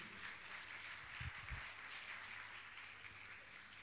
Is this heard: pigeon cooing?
no